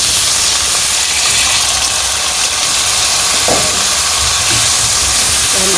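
Potatoes with turmeric, chili, salt, fish spice and a splash of water sizzle and hiss steadily in a pan, a loud continuous frying noise with occasional faint clinks of stirring throughout.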